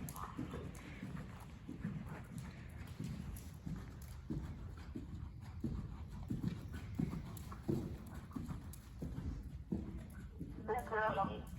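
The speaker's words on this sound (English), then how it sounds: "This is the canter." A horse cantering during a dressage lesson, its hoofbeats thudding in a steady rolling rhythm at moderate distance, with faint voices in the background.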